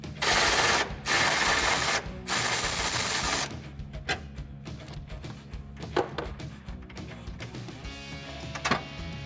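A wrench loosening a bolt on a truck bumper mount on a 2019-2020 Chevrolet Silverado 1500: loud rapid mechanical ratcheting in bursts early on, then scattered metallic clicks and knocks close by.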